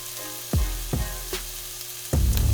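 Shrimp searing with garlic frying in a pan for Cajun shrimp Alfredo, giving a steady sizzle punctuated by several sharp clanks of utensils or the pan, close and fairly loud with no talking.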